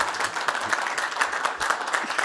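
An audience applauds at a talk on native gold coins and minted tokens from Tierra del Fuego, Argentina, with steady clapping throughout and a faint voice beneath it.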